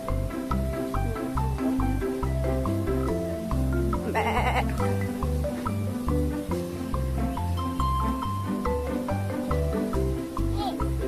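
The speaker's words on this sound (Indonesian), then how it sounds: "Ada kambing." A goat at the Secret Zoo petting area bleats, its calls mixed into a loud, steady, music-like background that runs through the whole stretch.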